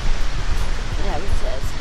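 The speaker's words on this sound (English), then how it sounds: "So you should be able to hear the sound of the water." Broadband rushing of a river flowing beside a trail at dusk, a steady close wash of water filling the whole stretch without pause.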